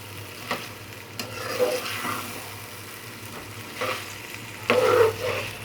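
Eggplant stirred into a spicy masala in a pan, a low sizzle broken by several scraping stirs, with the loudest clatter near the end.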